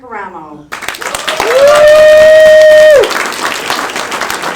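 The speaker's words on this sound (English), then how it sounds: "it's time to give a warm welcome and a round of applause" Applause from a crowd at a grassroots political meeting welcomes the state chairwoman to the stage. A voice is heard briefly before the clapping swells, and a steady electronic whine rings through the middle.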